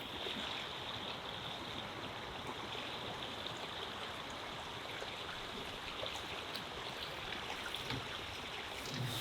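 Small waterfall and stream at a backcountry lake spot, a steady broadband rush of falling and flowing water, close and continuous with no voices.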